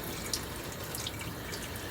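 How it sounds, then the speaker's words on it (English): Water runs from a tap while seeds are rinsed out of a sieve, a quiet, steady hiss of flowing water with faint splashes and no voices. "So I make sure that I rinse everything out of my sieve that's over there."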